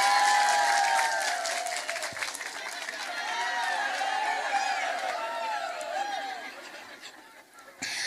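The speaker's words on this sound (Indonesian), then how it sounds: "Tepuk tangan dulu dong." Audience applause erupts during an Islamic sermon (tausiah), a broad, steady wash of clapping with scattered laughter and murmuring from the crowd, the speaker's voice rising over it in places before it thins out near the end.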